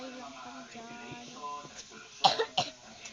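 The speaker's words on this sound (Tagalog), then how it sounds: "sinisipon ng inuubo din kami" A person coughs in a short burst of three or four rough hacks after a stretch of quiet voiced sounds, close and clear.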